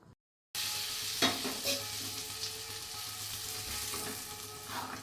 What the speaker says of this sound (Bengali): এইবার তরকাটা ঢেলে দেব